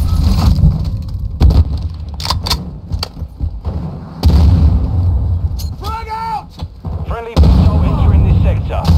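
A frag grenade goes off in Call of Duty Modern Warfare 2 multiplayer, a loud close boom within a dense mix of gunfire, thuds and shouted voices.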